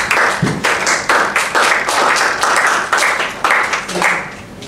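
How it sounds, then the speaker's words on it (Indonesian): A classroom of students clapping for a group that has just presented, a close, loud, fairly rhythmic burst of many hands in repeated waves that tapers off near the end. "Ya, tepuk tangan untuk kelompok 3."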